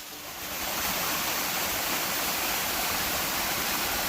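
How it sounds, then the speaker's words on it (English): A small waterfall pours into a deep pool at Dunn Falls along the Appalachian Trail, a loud, steady broadband rush that swells in over the first half second and then holds constant, with no voices. "Small waterfall into a deep pool."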